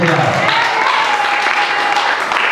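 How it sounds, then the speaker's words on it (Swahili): A church congregation claps for a couple, dense applause filling the room over a sustained musical tone, with voices talking alongside. "Piga Bwana Yesu makofi kwa ajili yao."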